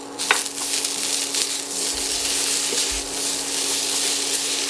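Fresh pressed garlic cloves sizzling in a hot stir-fry pan with green beans, a steady bright frying hiss running throughout with a few soft clinks and stirring thumps.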